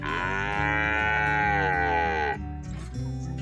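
A single long, loud cow moo from cattle on an Australian ranch, with rich harmonics, held for over two seconds before trailing off, followed by faint farm background noise.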